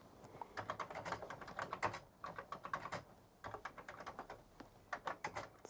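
A program being typed on a computer keyboard for a Foenix F256K system: rapid, steady key taps in close succession with brief gaps, fairly quiet and without speech.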